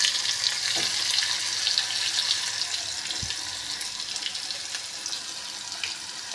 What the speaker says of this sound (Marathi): छान असे फ्राय करून घेत आहोत